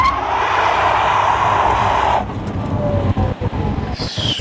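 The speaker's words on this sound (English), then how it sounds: "Just starts burning out the tires" A 1,914 hp Rimac electric car burns out its tires, a loud continuous tire roar and squeal lasting about two seconds, then cutting to a quieter, uneven rumble with scattered knocks.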